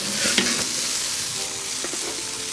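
Tomatoes and steaks fry in beef fat in a hot pan, giving a continuous bright sizzle with a few small pops and crackles, close up and without any voices.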